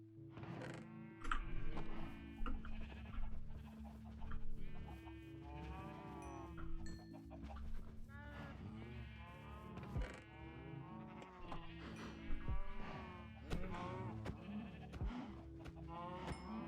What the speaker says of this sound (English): I will need to kill some cows.